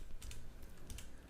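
A computer keyboard is typed on in a short burst of a few quick, soft keystrokes, close and quiet, with no talking.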